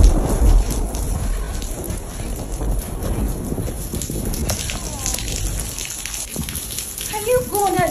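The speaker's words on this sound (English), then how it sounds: "Can you go under the rain?" Rain falls steadily in an outdoor Nigerian setting, a dense continuous hiss that stays fairly loud throughout, with people talking over it.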